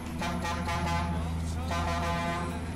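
Loud harmonic horn toots from a modded Nazım Zeki Uysal 440-horsepower truck pulling six trailers in a simulator game, two sustained blasts over a rumbling engine, with a voice faintly underneath.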